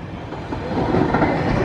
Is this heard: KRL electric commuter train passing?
yes